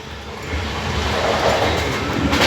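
A train rolls along the rails close by, a steady loud rumble with rhythmic wheel clatter building slightly over a few seconds.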